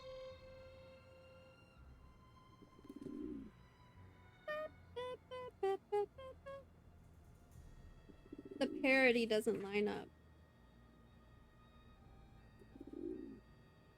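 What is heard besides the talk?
pigeon cooing in Nancy Drew video game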